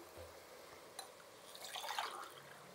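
Water is poured into a metal pot with a soft gurgling splash that swells briefly, quiet overall and close by.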